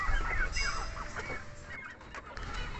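Ayam Gaok chickens cluck and call in a coop, a busy run of overlapping clucks close by with other fowl noise, no talking.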